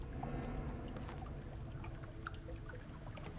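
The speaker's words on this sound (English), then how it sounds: "That's the sound of running water." Steady running water in a video game trickles and splashes continuously at low volume, with no voices over it.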